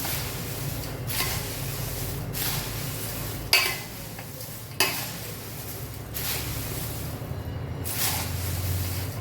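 Hot, thin crispy poha chivda is stirred in a metal pan, a spoon scraping and knocking against the sides in a steady rhythm over a constant low sizzle, with two sharper clanks partway through.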